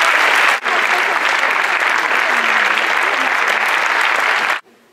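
Audience applause at the official film screening in Berlin, loud sustained clapping from a full hall with a brief dip near the start, then cutting off abruptly near the end.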